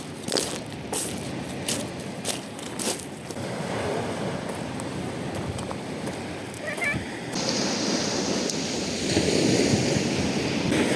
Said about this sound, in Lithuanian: Pagaliau bangos netokios didelės,